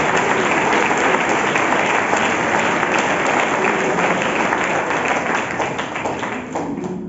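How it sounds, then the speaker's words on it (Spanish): Sustained applause from a large church congregation, dense steady clapping that fills the whole stretch and eases slightly toward the end. "Aplauda al Señor Jesucristo, que es bueno y merecedor."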